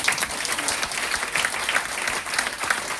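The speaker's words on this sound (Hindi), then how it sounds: "ताली बजाइए इनके लिए।" An audience at a health talk claps for a volunteer in a short, dense burst of steady applause, with a faint voice underneath.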